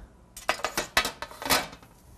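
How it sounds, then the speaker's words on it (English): A metal spatula scrapes fried chips off a pan in about half a dozen quick, sharp strokes, loud and close, with a brief pause between them. "Need a little spatula to get my chips off the pan."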